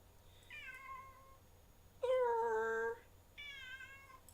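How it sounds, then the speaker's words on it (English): A cat meows three times in a row: a medium call, a longer and louder drawn-out meow, then a shorter one, all clear and close with no talking. "Whose cat is it? Someone's cat likes to find Petrie"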